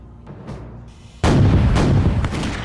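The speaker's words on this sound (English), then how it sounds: "They bombard the outer wall of this castle with heavy cannon to try and make a breach in the wall." Heavy cannon bombarding a castle's outer wall: a single loud, deep boom bursts in after quiet rumbling, followed by a long rolling roar that slowly fades.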